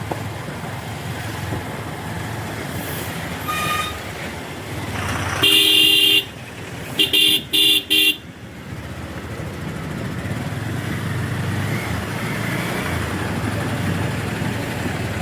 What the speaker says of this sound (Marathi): भरपूर मोठा जाम आहे।